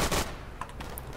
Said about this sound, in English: I'm next to a machine gunner.